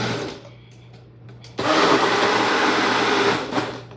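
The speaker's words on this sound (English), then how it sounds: "That's where I added water onto that level, and then I'm just going to blend it now." A blender mixing a protein shake with water stays quiet at first, then kicks on abruptly and runs as a loud, steady, high whirring roar close by.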